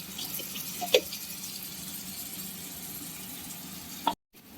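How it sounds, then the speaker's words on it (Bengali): Water used to rinse spices is poured into a hot cooking pan, making a soft splashing pour and a gentle sizzle, with a couple of small clinks and a sudden stop near the end. "মশলা ধোয়ার জলটাও দিতে হবে"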